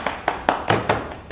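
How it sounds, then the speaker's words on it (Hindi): At a birthday celebration, a few people clap in about six separate, fairly light claps with an irregular rhythm, close by and with no voices. "तालियां."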